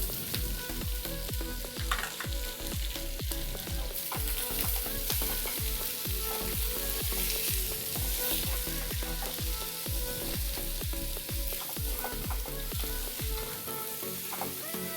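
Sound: onions frying with potatoes for Spanish omelette

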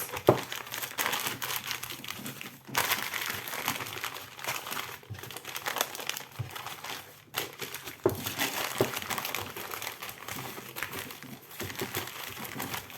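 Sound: crinkling packaging while wrapping parcel

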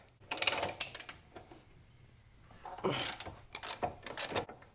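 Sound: wrench loosening lower ball joint bolt on Mazdaspeed MX-5

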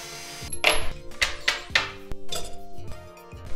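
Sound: unscrewing four through-bolts from a Bosch alternator

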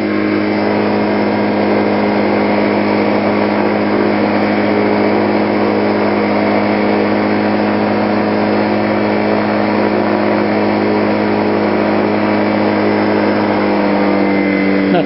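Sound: Dragonfly light aircraft engine during takeoff

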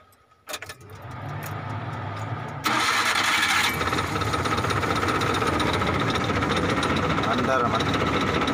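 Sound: multicab engine starting and running

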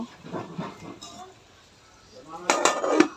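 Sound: lid being put on a cooking pot

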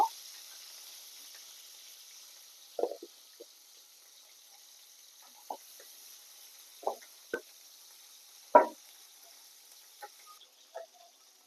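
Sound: small fish frying in oil in a frying pan

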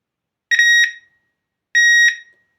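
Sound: Garrett Super Wand handheld metal detector alarm detecting mobile phone

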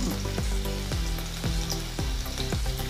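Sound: garlic and green chilli frying in hot oil

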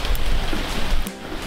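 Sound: heavy rain blown in by the wind

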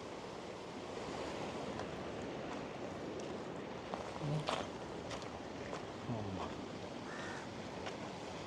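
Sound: fast-flowing floodwater at a bridge

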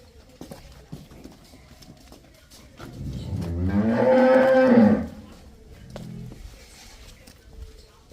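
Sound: Nili-Ravi buffalo mooing

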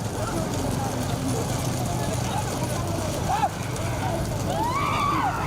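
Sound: bulls running in a cart race

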